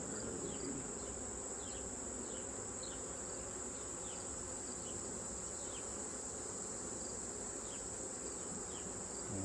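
Honeybees hum steadily around open hive boxes as frames are lifted, a dense continuous buzz with faint, brief insect chirps layered over it and no talking.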